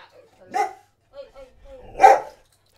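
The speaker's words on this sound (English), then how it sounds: "Oh, my dog's about to bark." A dog barking at a dog on television indoors, a few sharp separate barks with a louder final bark, mixed with quieter whimpery sounds between them.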